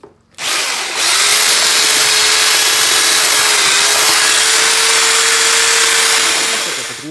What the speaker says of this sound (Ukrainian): взяли міксер, в моєму випадку перфоратор із насадкою